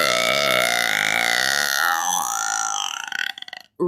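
A single long, drawn-out burp with a wavering, rising and falling pitch that fades out into a few short croaky pulses at the end, close and loud.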